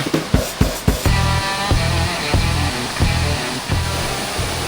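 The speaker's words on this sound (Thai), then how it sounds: "เดี๋ยวเราเนี่ยข้างหน้าเห็นน้ำตกใหญ่ไกลๆแล้ว" Chantathen waterfall, the largest in Chonburi, Thailand, roars as a steady broadband rush of falling water. A few sharp thumps come early on, then the flow continues unbroken and fairly loud, with no talking.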